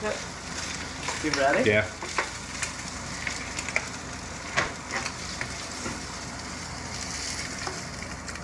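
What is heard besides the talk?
ingredients dumped into pot and frying for gumbo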